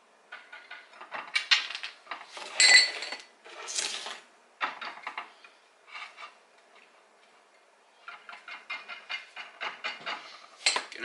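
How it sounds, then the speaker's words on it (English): A whisk scrapes and clicks against a bowl while mixing flour, salt and dry ingredients for oatmeal cream pies, in bursts of quick rhythmic ticking with short pauses, close and fairly quiet. "And we're going to whisk it all together"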